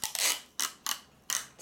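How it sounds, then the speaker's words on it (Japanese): Cellophane tape is pulled off the roll and wrapped around an egg in four short, crackling strips, each a quick rasp followed by a pause, close and fairly quiet. "それではセロテープで巻いていきます"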